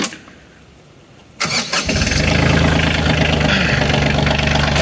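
A 2021 Kioti CK2610 diesel compact tractor engine cranks and starts after a quiet moment, then settles into a loud, steady, rumbling idle close by.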